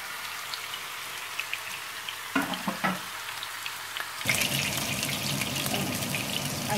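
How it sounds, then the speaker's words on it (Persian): Persian meatballs (koofteh) frying in a pan over high heat, a soft steady sizzle that briefly sputters with a few pops, then swells into a louder, fuller crackle. "اینا رو با درجه بالا سرخ میکنیم. و میذاریم که هر دو طرفش قشنگ سرخ بشه."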